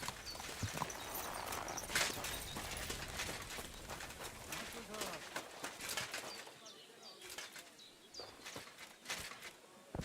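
Horse hooves clip-clop faintly and irregularly in the medieval game Kingdom Come, a string of quiet knocks mixed with bird coos and background ambience, with a voice talking over parts of it.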